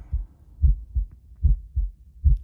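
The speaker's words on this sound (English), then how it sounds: "It was the beating of the old man's heart." A low, muffled heartbeat thumps steadily in paired beats, repeating about three times, close and dull with nothing else audible.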